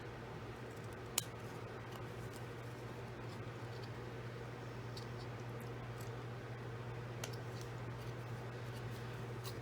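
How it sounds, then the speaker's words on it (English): Scissors trim small paper tabs on a Cricut-cut dachshund pop-up card, a single crisp snip near the start with another faint one later over a quiet hum of room noise. "We don't want that. So we're just gonna snip a little off, just like we did our other."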